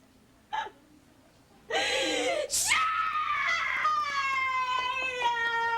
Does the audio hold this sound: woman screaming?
yes